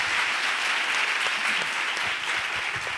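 A church congregation at a Pentecost service applauding; dense, sustained clapping from many hands fills the space evenly for about three seconds, fairly loud and without pause.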